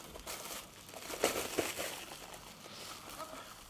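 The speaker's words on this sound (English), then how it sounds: "we're going to again wrap it nice and tight in the cling film that we already have" Plastic cling film crinkles and crackles as it is wrapped tightly around a beef wellington, a close, continuous rustle with a few sharper crackles in the middle.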